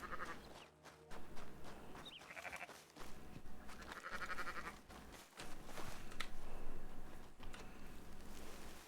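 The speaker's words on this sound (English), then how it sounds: "Sheep is sheared." Sheep in the RedM Red Dead roleplay game bleat repeatedly over a busy, cluttered game soundscape, several distinct cries spaced a second or two apart at moderate volume.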